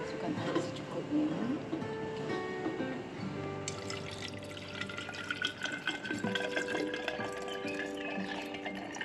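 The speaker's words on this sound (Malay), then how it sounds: "Masukkan air secukupnya." Water pours into homemade rose syrup, a continuous trickling, bubbling fill with rising tones and occasional drips, heard up close alongside background voices.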